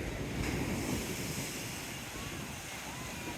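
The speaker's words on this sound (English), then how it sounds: "slightly rough in the sea today, but not too bad" Rough sea waves wash against a seawall, a continuous broadband surge with heavy wind noise buffeting the microphone, heard close and steady throughout without speech.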